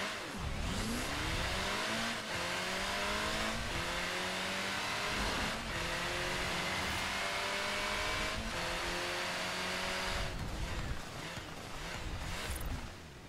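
A car in the racing game Forza Horizon 4 revs hard up to fifth gear and back down to first, the engine pitch climbing and dropping with each quick shift, loud and continuous with no talk.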